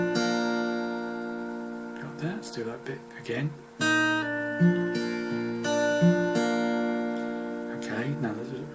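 Fingerpicked acoustic guitar plays half a bar of a song, a handful of ringing notes with hammer-ons, close and clear. A voice briefly speaks partway through before the phrase is repeated.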